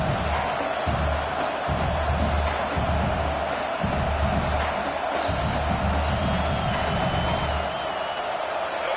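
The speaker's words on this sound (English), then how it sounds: "Crowd getting cranked up, trying to help this defense on the final drive." A packed football stadium crowd roars during an Alabama game as the defense takes the field for the final drive: a loud, dense, continuous wall of cheering and yelling with scattered whoops, steady throughout with no pauses.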